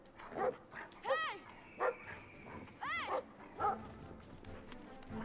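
A dog barking in the British countryside simulator game, several short sharp yips and barks spaced unevenly with whining pitch sweeps, fairly quiet in the game mix.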